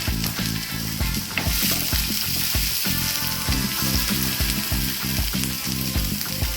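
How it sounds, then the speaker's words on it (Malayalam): Chopped onion dropped into hot oil with curry leaves, frying loudly in a dense, continuous sizzle and crackle, with a spatula clattering in an irregular rhythm throughout, close up and with no speech. "ഇനി ഇതിലേക്ക് നമുക്ക് ഒരു സവാള അരിഞ്ഞു വെച്ചിട്ടുണ്ട് അതും കൂടി ഇതിലേക്ക് ഇട്ട് കൊടുക്കാം"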